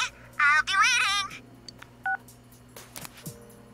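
An incoming phone call in the Persona 4 Golden video game comes through as a short electronic tone, with brief game voice sounds and chimes around it.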